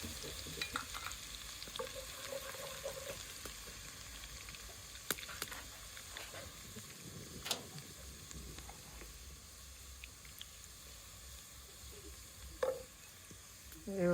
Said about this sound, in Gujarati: લસણ નાખવાનું શરૂ થઈ ગઈ